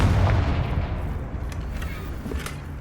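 A Confringo blasting spell explosion in a Harry Potter video game, a single deep boom at the start that fades into a rumbling tail, with faint crackles afterward.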